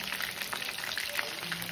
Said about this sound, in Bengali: এখানে আমি ফ্রাই করছি এখন কোফতা